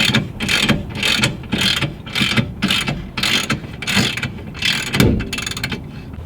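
Hand ratchet clicking in quick repeated bursts, about eight strokes, loosening strut bolts on a Subaru STI during a rear air-suspension install, close and loud with a brief knock near the end.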